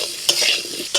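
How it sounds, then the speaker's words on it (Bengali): Potatoes frying in hot oil with turmeric and salt, a steady close sizzle broken by a few sharp stirring scrapes at the start and end of the pan. "ওই তেলেতেই দিয়ে দিচ্ছি আলু"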